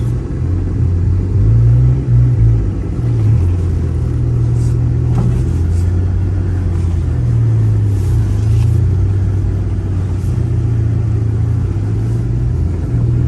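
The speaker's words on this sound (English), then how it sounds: "All right, we're driving off." A 2000 Honda Civic EX pulls away and keeps driving, its engine giving a loud, steady low rumble with mild rises in pitch as it accelerates, heard from inside the car without speech.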